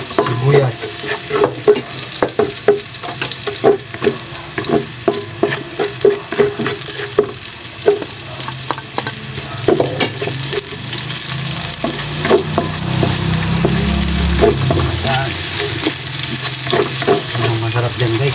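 Onions frying in hot oil for a Filipino ginisang sayote dish, with a steady loud sizzle and repeated scraping stirs of a spatula against the pan, intensifying toward the end.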